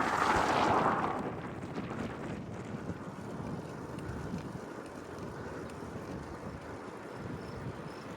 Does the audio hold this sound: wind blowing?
yes